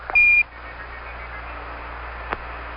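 The Apollo 11 lunar module's 1202 program alarm sounds as a single short, high, steady beep at the start, followed by quiet radio hiss and a faint click.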